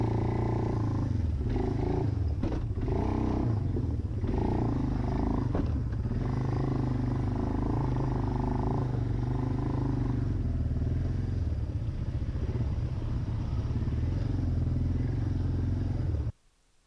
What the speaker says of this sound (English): The old Suzuki Eiger just makes it through everything